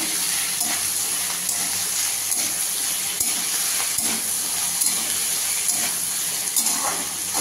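A potato and onion curry frying in a pan, giving a continuous close sizzle and hiss with occasional soft stirring knocks.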